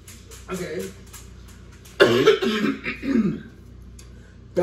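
A person coughs and clears their throat in a few rough, close bursts, with quiet pauses between them.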